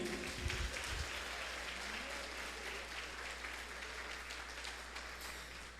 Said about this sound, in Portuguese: Tem palmas para Ele aí?